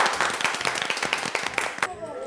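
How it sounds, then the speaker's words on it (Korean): A small group claps together in a quick, steady rhythm of close handclaps, which stop abruptly near the end, with voices under the applause. "박수"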